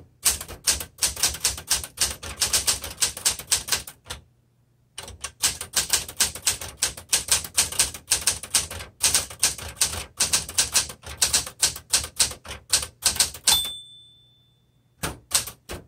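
Someone types on a red 1960s Smith Corona Classic 12 manual typewriter, giving rapid, close, sharp key strikes in bursts. One short pause breaks the typing, and it ends with a carriage return bell and slide.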